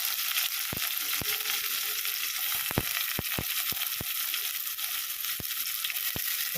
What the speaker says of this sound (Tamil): இப்போ வெங்காயத்தை போட்டுக்கணும் வெங்காயம் நல்லா வதங்கினாலும்